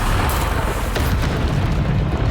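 A Bombardo spell explosion from the video game Hogwarts Legacy, a loud, dense booming burst that rumbles continuously for a couple of seconds with no talk.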